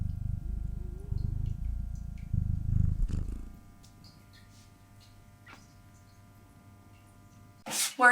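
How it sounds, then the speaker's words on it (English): A cat purrs close by in a steady, pulsing low rumble for about three and a half seconds, then falls away to a quiet room hum before a brief loud rustle at the very end. "She's purring"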